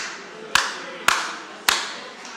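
Audience at a talk each responding with a single clap on request, three sharp, evenly spaced claps over a faint background hum.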